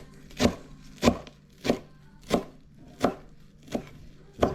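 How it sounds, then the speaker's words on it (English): A knife chops raw Hawaiian reef fish (nenue) on a cutting board for ceviche: seven crisp, evenly spaced chops, close and clear, with no talking. "Just a quick chop."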